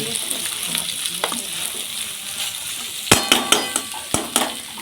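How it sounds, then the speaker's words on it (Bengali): Hilsa fish frying in a pan in a home kitchen during puja cooking, a continuous oily sizzle and hiss broken by a run of sharp spatter pops and crackles toward the end, close and loud. "এখানে ইলিশ মাছ ভাজা হচ্ছে।"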